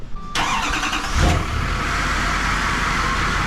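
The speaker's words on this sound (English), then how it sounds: "It sounds like a truck now" A dually pickup truck's engine rumbles steadily on a test drive, with a brief surge in intensity just after it kicks in, then a constant drone and road noise with no talking.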